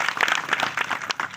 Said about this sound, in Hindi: उनके लिए भी तालियां बजाओ